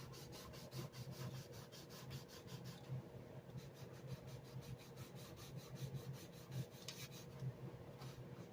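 Sanding a profile onto wood during a boat refit and upgrade, a close rhythmic rasping and rubbing repeated in quick back-and-forth strokes, faint and steady, with no voices.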